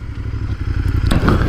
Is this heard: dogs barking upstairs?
no